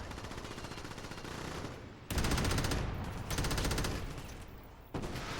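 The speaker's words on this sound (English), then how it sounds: "what are they shooting at?" Sustained automatic gunfire from the game Crackdown rattles in long, loud bursts with brief gaps between volleys.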